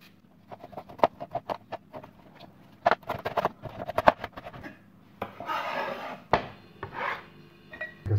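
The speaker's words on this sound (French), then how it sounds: "On prend l'oignon, on émince finement." A knife taps and scrapes on a cutting board while finely mincing onion and shallots, irregular chopping knocks with a faster run of close cuts partway through, soft and near.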